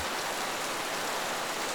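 Steady rain falling on Paris streets, a dense even hiss of drops on pavement throughout, close and continuous with no voices.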